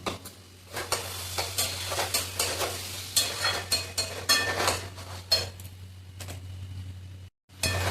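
Chicken curry meat sizzles in oil in a pan while a spatula stirs it in quick repeated scrapes and clinks, close and steady with a low hum underneath, briefly cutting out near the end.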